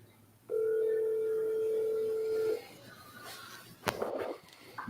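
Outgoing phone call ringing as a single steady electronic ring tone that lasts about two seconds, then stops, followed by faint rustling and a brief clatter nearby.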